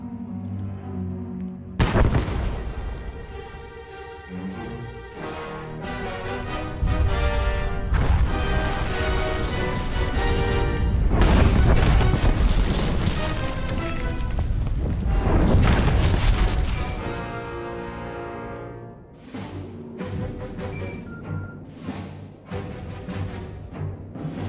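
Loud, sustained explosions and crashing rubble roar through a Star Wars: The Old Republic scene set on Corellia, with heavy booms swelling and rolling for long stretches over a dense, continuous rumble with no talking.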